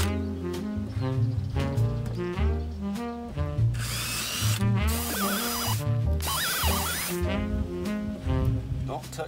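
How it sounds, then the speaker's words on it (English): A power drill whirs in a few short high-pitched bursts, drilling a hole in a plastic tube, over steady background music. "Just realised I need the drill to put hole in it."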